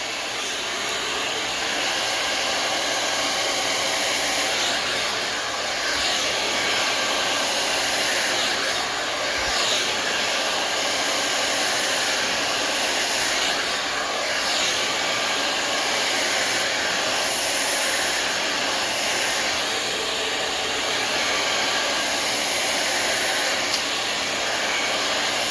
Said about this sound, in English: I got a blow dry session.